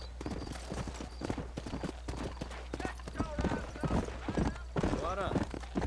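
Horse hooves clip-clop in a steady rhythmic gait in the Red Dead Redemption video game, close and continuous, with voices talking over the hoofbeats and a brief whinny-like sound near the end.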